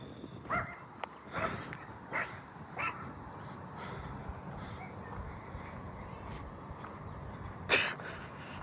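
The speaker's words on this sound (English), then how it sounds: "Oh, there's dogs inside that house." Dogs bark from inside a nearby house, several muffled, fairly faint barks spaced irregularly, with a sharper yip near the end over a quiet outdoor neighbourhood background with faint birdsong.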